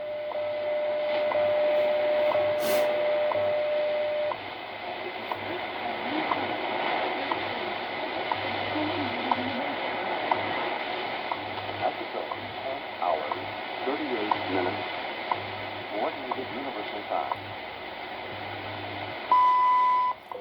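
A WWV time signal station received on shortwave radio: a steady tone and periodic ticks over hiss and fading static, with a faint voice-like murmur buried in the noise, heard through the radio's speaker at moderate level.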